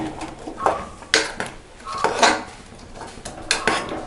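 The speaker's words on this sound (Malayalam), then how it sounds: "ചട്ടി അടുപ്പിൽ വെച്ച് അല്പം വെളിച്ചെണ്ണ ഒഴിക്കാം" A few metal clanks and scrapes of a pot being set down and shifted on a stove, close by, with quiet gaps between the knocks.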